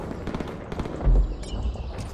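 Incoming artillery explosions in the video game Dirty Bomb, a cluster of sharp crackling blasts followed by one heavier low thump near the middle, moderately loud with no talk over them.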